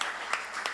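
Audience applause at a live talk event, a steady wash of clapping with a few sharper individual claps standing out, moderately loud throughout.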